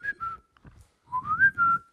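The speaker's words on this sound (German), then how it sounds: "Es gibt aber den Thomas-Pfiff." A Thomaner choir boy whistles the Thomas-Pfiff signal: two short clear notes, a brief pause, then a rising multi-note phrase, loud and close with no talking.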